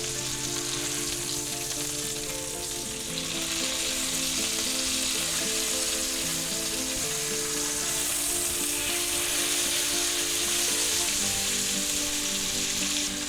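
Thick boneless pork chops fry in butter in a cast iron skillet over medium-low heat, giving a steady, close sizzle and crackle that continues without a break.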